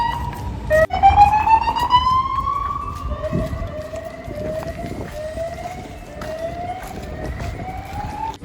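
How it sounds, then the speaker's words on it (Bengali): A police car siren wails on a street in Vilnius, its rising and falling tone sweeping steadily for several seconds, fairly close and clear over low traffic rumble, with no talking. "এই যে পুলিশের গাড়ির আওয়াজ।"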